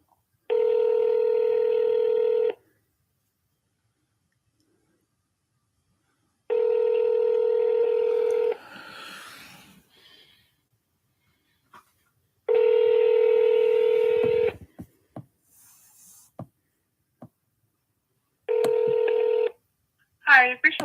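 Four bursts of telephone keypad touch-tones, each about two seconds long, entering an extension on a phone line. Quiet gaps and faint rustling separate the bursts, and one more short burst comes at the end.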